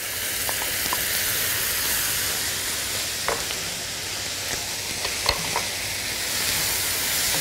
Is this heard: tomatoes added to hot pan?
yes